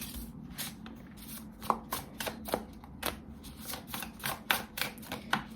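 Tarot cards shuffled by hand, a string of quick papery riffles and slaps in an irregular rhythm, close and fairly soft, with no talk.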